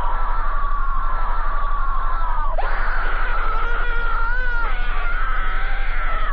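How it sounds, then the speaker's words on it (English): A stock sound effect of a woman's high, sustained scream rises and wavers for several seconds, loud and shrill, with a sharp break midway before continuing, no talking. "the payoff is just some stock woman screaming"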